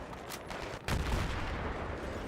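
Battlefield 3 suppressing fire: a dense, loud stream of rifle shots with sharp cracks punching through, one heavier blast near the middle, and continuous echoing battle noise behind.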